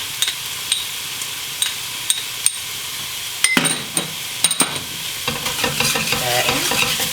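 Garlic and tomato paste sizzling and frying in a pan for bean burritos, with a utensil clinking and scraping as it stirs, steady sizzle under sharp intermittent knocks; no one speaks.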